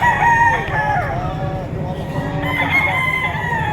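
A white-legged, medium-sized rooster crows loudly and close by at a rooster market in Padre Garcia, Batangas, a long drawn-out call with clucking hens and a low rumble of background noise.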